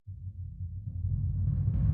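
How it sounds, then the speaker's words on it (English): A floor tom swell in a song mix, a low rumbling roll that starts quiet and gradually builds louder, with no other sounds. "This is a little floor tom swell."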